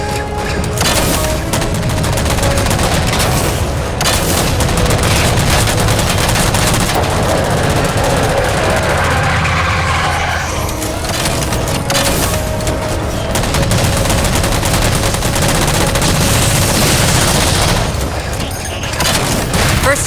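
Rapid automatic gunfire and booming blasts in Halo 4 combat, with dense bursts and explosions continuing almost without pause for twenty seconds, loud and close, with talk over the shooting.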